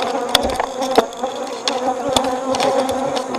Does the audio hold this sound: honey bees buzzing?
yes